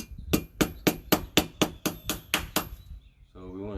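A blacksmith's small hammer with an oak handle and hickory head strikes a workpiece about ten times in an even, steady rhythm, sharp and close, before a voice starts speaking.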